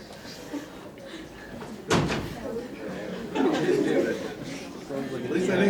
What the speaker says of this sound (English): You can at least close the door.